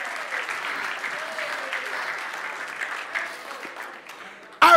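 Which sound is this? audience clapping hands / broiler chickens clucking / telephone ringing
audience clapping hands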